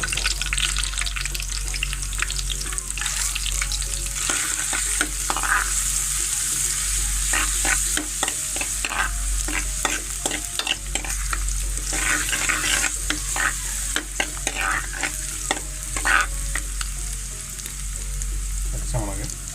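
Garlic and ginger fry in a pan, a steady loud sizzle filling the whole stretch, with frequent scraping clicks of a spoon stirring through the pieces.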